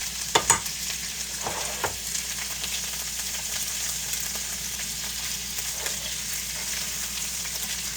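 Pork belly sears in a pan, a loud, even, continuous sizzle with a few sharp utensil taps near the start.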